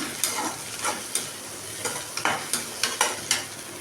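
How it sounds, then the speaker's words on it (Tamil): Small shallots sautéing in a pan for a mushroom curry give off a soft sizzle, broken by a dozen or so sharp scraping strokes of a spoon at a steady pace. No one speaks. "பாருங்கள் சின்ன வெங்காயம் இப்போ நல்லா வணங்கிருச்சுங்க. ஆட்டாலே உங்களுக்கு தெரியுங்க"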